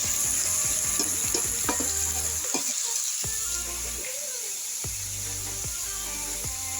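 Duck meat frying in a pan, a bright continuous sizzle with irregular stirring clatters and scrapes, close and fairly loud, easing slightly toward the end.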